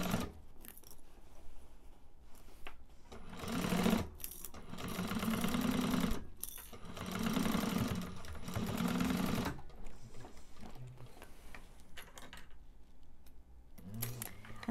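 Domestic sewing machine stitches across a fabric bag lining at a half-inch seam in several steady motor runs of a few seconds each, separated by short pauses and faint handling noises, close and moderately loud.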